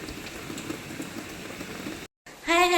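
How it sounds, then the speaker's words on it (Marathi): Heavy continuous rain falling outside a closed window, a steady dense hiss that runs unbroken, then cuts out briefly before a louder burst at the end. "रात्रभरपासून बाहेर कंटिन्यू पाऊस चालू आहे"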